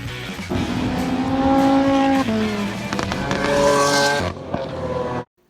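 Porsche 935 race car at full throttle, a loud, close engine roar climbing through gears with tire squeal and skidding as it passes, then cutting off abruptly near the end.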